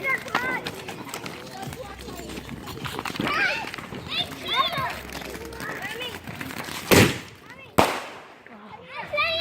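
Fireworks and firecrackers bursting, with two loud sharp bangs standing out near the end over continuous excited chatter and children's voices nearby.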